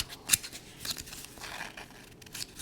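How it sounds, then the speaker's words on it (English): Textured pages of an old Raggedy Ann and Andy children's book being handled close up, giving short crisp rustles and crinkles with one sharper snap near the start. "Do you hear this material? It's not like regular"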